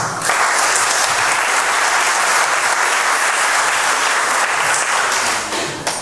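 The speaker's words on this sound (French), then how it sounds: "mais ils vont applaudir néanmoins aujourd'hui" A room full of students applauding at a talk on smart objects, steady, dense clapping that holds loud for about six seconds before tapering slightly at the end.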